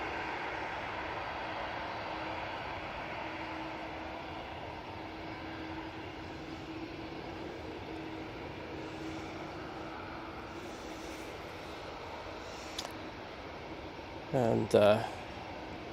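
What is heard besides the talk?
Virgin Atlantic Airbus A350-1000 landing on runway 23 right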